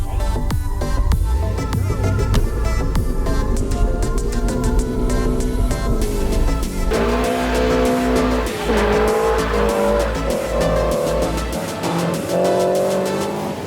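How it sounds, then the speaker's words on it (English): Rear-wheel-drive modified car drifting at a car meet, with loud continuous tire squeal over a roaring, revving engine that rises and shifts pitch throughout, close and dominant. "he says he's gonna drift it, get some heat in the tires"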